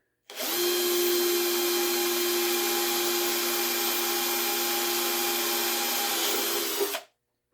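A power drill bores a series of holes in sequence through a metal shield cover, one steady continuous whine lasting about seven seconds, close and loud with no talking.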